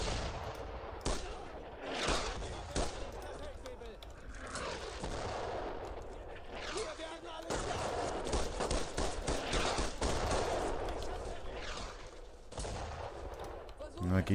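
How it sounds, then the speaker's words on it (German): Gunfire and explosions from a World War II shooter game, Brothers in Arms: Road to Hill 30, with a grenade thrown: dense, sustained bursts of rifle and machine-gun fire and heavy booms that continue for the whole stretch. "Da schmeißen wir jetzt einfach mal eine Granate rüber."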